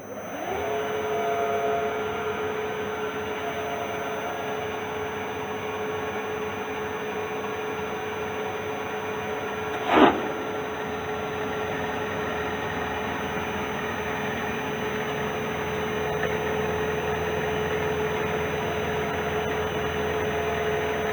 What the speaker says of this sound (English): I'm going to start the spindle, bring down until we cut, and engage